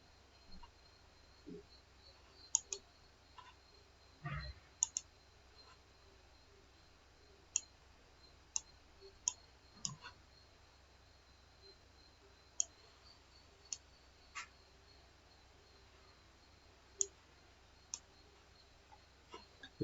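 Sparse, sharp single clicks of a computer mouse while working in Power BI, spaced irregularly every second or two over a quiet background, close but soft, no talk.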